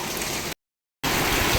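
Steady broadband rain hiss, fairly loud and close, broken by a brief gap of silence midway before resuming at the same level.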